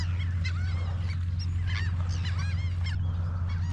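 Geese honk repeatedly around a dock on the Gulf coast, several overlapping calls, fairly close, over a steady low hum of wind or water.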